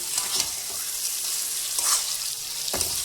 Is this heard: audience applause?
no